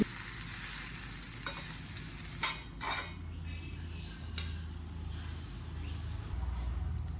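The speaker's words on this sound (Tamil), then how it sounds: "இந்த ஸ்டேஜில் நம்ம வறுத்து வச்சுட்டுருக்கேன்" Beans with grated coconut stir-fried in a pan give a steady close sizzle throughout, with a few brief scrapes or knocks of a utensil against the pan.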